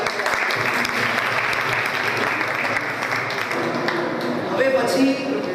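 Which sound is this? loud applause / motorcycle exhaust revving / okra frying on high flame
loud applause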